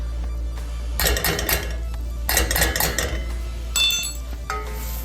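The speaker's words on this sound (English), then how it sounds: "We're gonna whisk that in to form a roux" A metal whisk stirs flour into melted butter for a roux, clinking and scraping rhythmically against a pan in three separate bursts over a steady low hum.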